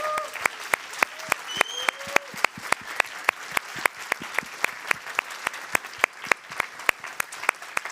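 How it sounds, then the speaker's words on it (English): Scattered applause from the audience at the Startup World Cup Austria 2023 pitch event: sharp, separate claps from a modest crowd, fairly thin and uneven over several seconds, with a few brief tonal voice sounds near the start. "your biggest round of applause"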